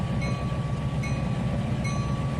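A freight train of a little over 2,300 tons rolls along in the Trainz 2019 simulator, a steady low rumble with a faint repeating wheel click, even and moderately loud, no talk.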